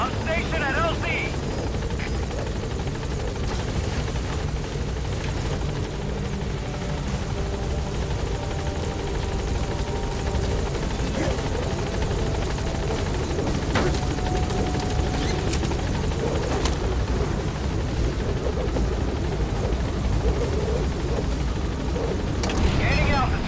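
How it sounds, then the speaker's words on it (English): In the Metal Gear Solid V game, a helicopter comes in to land at the landing zone, its rotor and turbine drone loud and continuous throughout, with radio voices speaking over it. "B-Quad. Arriving shortly at LZ."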